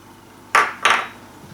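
Two quick clattering knocks, a spoon or utensil against a bowl, while bread flour, plain flour, sugar and salt are mixed together; close, brief and a third of a second apart, with a quiet room otherwise.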